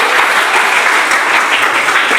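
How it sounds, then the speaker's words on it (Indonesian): Classroom applause for the TKJ 2 class, dense steady clapping from many students filling the room without pause, no talk over it. "saya minta tepuk tangan dulu untuk kelas TKJ 2"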